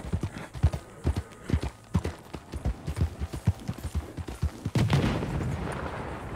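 Horse hooves clip-clop in an irregular trotting rhythm across open ground in the Red Dead Redemption 2 video game, near and distinct, ending in a louder booming burst.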